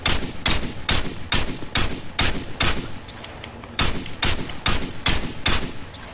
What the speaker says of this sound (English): I'm still firing out of my FAMAS